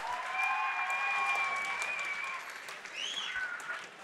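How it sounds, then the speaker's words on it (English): Crowd at a Muay Thai fight event applauding after a bout, a fairly faint, steady wash of clapping with a voice speaking over it. "how about a round of applause for those two guys?"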